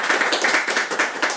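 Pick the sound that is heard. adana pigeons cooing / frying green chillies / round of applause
round of applause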